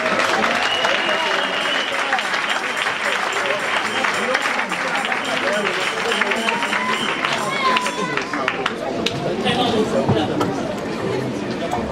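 A congregation at a women's church convention in Liège, Belgium applauds steadily, with dense clapping and crowd chatter running throughout at close range and high, even loudness.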